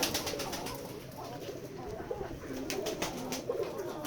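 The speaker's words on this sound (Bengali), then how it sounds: "আমরা আমাদের এই ফার্ম হাউস কবুতর খামারে দেশি বিদেশি সকল ধরনের কবুতর লালন পালন করে থাকি" Pigeons of local and foreign breeds at a pigeon farm coo softly and repeatedly in the background, a low murmuring chorus with occasional wing flutters and light rustling.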